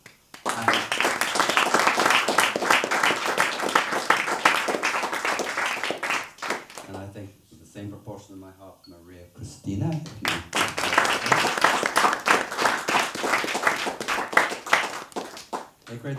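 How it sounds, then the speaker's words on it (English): A poetry reading audience at Keats House applauds: sustained, dense clapping fills the room for about six seconds, fades under someone speaking, then swells again near the end as clapping resumes beneath his talk. "if you would give applause, please do"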